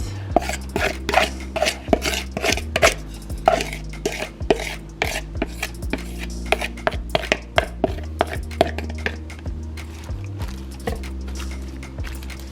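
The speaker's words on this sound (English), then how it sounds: "just giving that a quick mix" Ingredients for beef ramen are stirred in a crockpot, with a rhythmic series of knocks and scrapes of a utensil against the pot under a low background hum.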